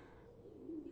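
A soft, low cooing of a pigeon in a cartoon, brief and faint, rising slightly at the end.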